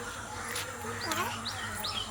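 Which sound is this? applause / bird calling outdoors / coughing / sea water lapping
bird calling outdoors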